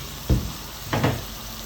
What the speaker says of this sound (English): Add your crayfish.